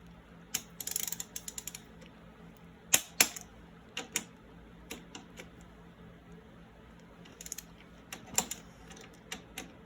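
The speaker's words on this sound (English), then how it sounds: "Torques back to 45 Newton meters." Torque wrench tightening a center stand bolt on a Norden 901 motorcycle to 45 newton meters, heard as scattered close ratcheting clicks and short bursts of clicks against a quiet workshop background.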